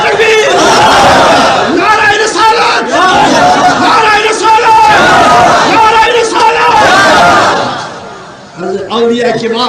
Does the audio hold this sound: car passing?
no